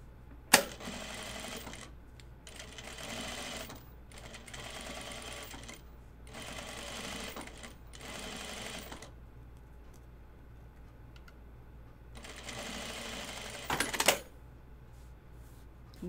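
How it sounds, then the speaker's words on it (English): Sewing machine top stitching linen fabric, running in a series of short rapid stitching bursts separated by pauses, moderately quiet and close, with a couple of sharp clicks between runs. "I'm going to top stitch this."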